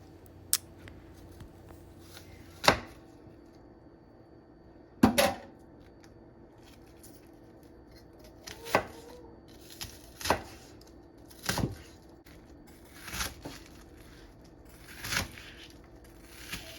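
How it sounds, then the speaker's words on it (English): Knife cuts through a red onion on a cutting board in a kitchen, sharp chops landing one at a time at a slow, uneven pace, close and fairly clear. "I'm cutting off the ends and discarding"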